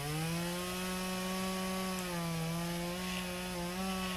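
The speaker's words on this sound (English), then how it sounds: "A very powerful chainsaw." In the video game Flashing Lights, a very powerful chainsaw cuts down a tree with a loud, steady, close-up whine that holds an even pitch and wavers only slightly, with no voices over it.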